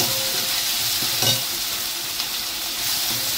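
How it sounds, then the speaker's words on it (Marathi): Tomato with salt, garlic and spices sauté in hot oil in a pan, giving a loud, even sizzle with a few soft stirring bumps, continuous and close with no talk. "तेलात सगळं हे परतून घ्यायचं व्यवस्थित असं छानपैकी।"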